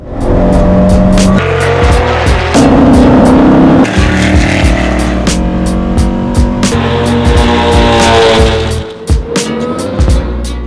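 Vintage race cars on a racetrack, among them a Porsche Carrera 904, Scarab sports racer, Lancia D50 and Abarth Simca, roar past loudly at high revs, with rising and falling engine notes, gear changes and sharp tire squeals throughout.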